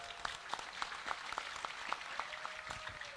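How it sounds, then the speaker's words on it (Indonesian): Applause from an audience at a stage gathering, fairly faint and distant, with scattered distinct claps popping out above a thin continuous patter. "Tepuk tangan buat Mbah Tejo"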